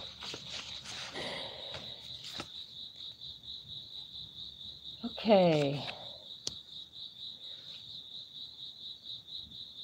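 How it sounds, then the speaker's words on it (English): Crickets chirp in a steady high continuous trill throughout, faint and even, while a person briefly speaks a word and another short sound rises over the middle. "Ooh, crickets."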